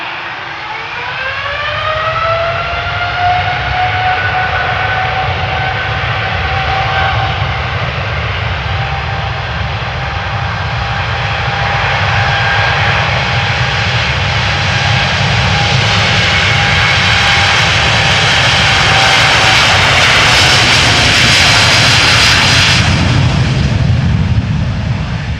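A KLM Boeing 787-10 Dreamliner at Amsterdam Schiphol airport, its jet engines roaring loudly and steadily for the whole stretch, with a rising whine building toward the end and no voices.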